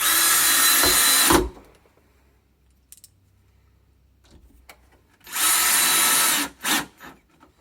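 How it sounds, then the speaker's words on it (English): A power drill drives screws into doorknob hardware in two loud whirring bursts, one at the start and another near the end, with a quiet gap of small handling clicks between them and a brief final buzz. "So now I'm going to be screwing this in just like this."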